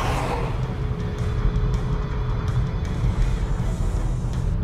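A BMW E90 M3 engine drones steadily and loudly from up close, a constant dense roar that holds without breaks or audible voices.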